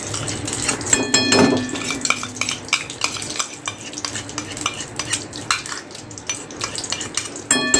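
Ghee heats in a pan for prasad shira amid steady stirring scrapes, clinks of a utensil against metal cookware and a light sizzle, close and moderately loud, with no talking.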